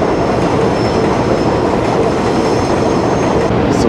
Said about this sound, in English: So usually the N train, the W train that goes to Astoria passes over here.